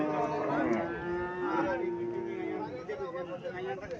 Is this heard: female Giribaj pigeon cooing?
no